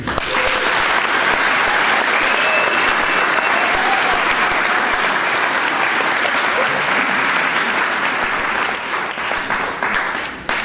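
Loud, sustained applause from a graduation audience welcomes a speaker, a dense wash of clapping with a few cheers that holds for about ten seconds before starting to thin near the end.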